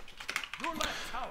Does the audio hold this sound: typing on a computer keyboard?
yes